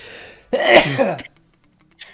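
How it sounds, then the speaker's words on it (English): A single loud, close sneeze bursts out and is followed by a short, faint after-sound, with quiet before and after. "I'm gonna sneeze."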